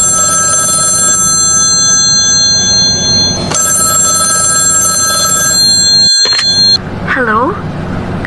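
Telephone bell ringing in a radio drama, a steady electronic ring with sharp repeating tones that fills the first several seconds over a low background hum, then cuts off abruptly with a click and a brief warbling tone.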